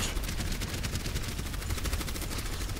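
Dense, continuous rapid gunfire from the Apex Legends video game fills the clip. The bursts are loud and overlapping, with no pause.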